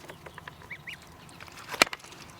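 Goslings 27 days old peeping and calling faintly while eating grass from a bucket, a few short chirps with one sharper close call near the end.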